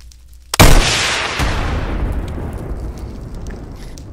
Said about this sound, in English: And here's the bazooka.